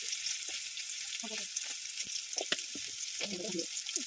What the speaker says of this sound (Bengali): কড়াটা গরম করতে দিয়ে কড়াতে তেলও দেওয়া হয়ে গিয়েছে, এবার লঙ্কা পেঁয়াজটাও দিয়ে দেওয়া হয়ে গেল।